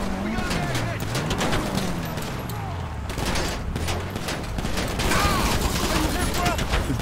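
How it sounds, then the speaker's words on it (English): Tank main gun fire in a video game on hard difficulty, repeated heavy booms and bursts over a droning engine, with people talking over the action. "Just blasting the ever-living hell out of stuff with the main gun"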